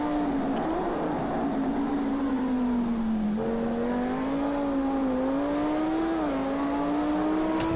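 A GT3 race car engine at the Algarve circuit holds a steady high drone that rises and dips slightly through corners, with a sustained whine and gear-shift changes, heard from a distance.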